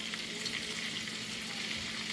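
Chunks of bacon sizzling in hot oil in a pan, a steady close crackle with fine popping spatters throughout and no voices.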